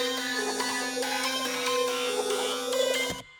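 Layered plucky Serum 2 synths in an underground-style Ableton beat play a dense, bright melody together with a sustained low drone beneath, steady and loud, cutting off abruptly near the end.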